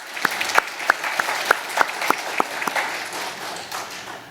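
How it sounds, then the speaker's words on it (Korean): Applause from a church congregation at an Easter dawn service, honoring the Hallelujah choir. Distinct sharp claps ring out at first in a steady rhythm over a broader crowd patter, then melt into a dense, even wash of clapping that fades slightly. "우리 할렐루야 찬양대 큰 박수 한번 보내주시기 바랍니다."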